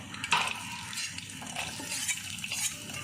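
Cashew nuts frying in hot ghee for a prawn biryani, a soft continuous sizzle with faint clinks of a spoon against the pan, close and steady with no talking.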